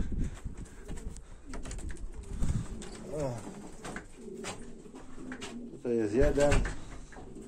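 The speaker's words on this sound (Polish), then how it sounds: "Gołąbki się zlatują." Pigeons flocking back to their loft during a training flight, with soft cooing and bursts of wing flaps and landing clatter, heard close under someone speaking Polish.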